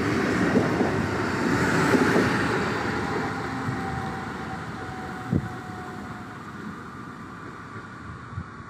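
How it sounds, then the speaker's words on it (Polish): A Regio passenger train rolling into a station platform in Goleniów, a low rumble with wind noise near the microphone, a faint steady tone and a couple of brief knocks. "Wjeżdża pociąg Regio, relacji Poznań Główny,"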